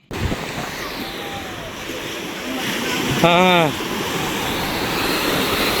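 Steady blustery wind at the seashore roars across the whole stretch, with a brief whistling, warbling tone rising midway and a faint voice early on.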